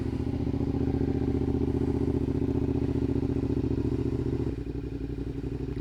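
A Suzuki SV 650 motorcycle engine idles close by with a steady, lumpy rumble, dropping to a slightly lower, softer tone near the end, with no voices.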